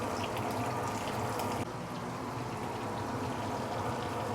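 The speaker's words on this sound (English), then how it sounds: "So we want to fry the fish head for a couple of minutes." A fish head fries in hot oil in a pan for claypot fish head, giving a steady, close sizzling hiss that eases slightly partway through.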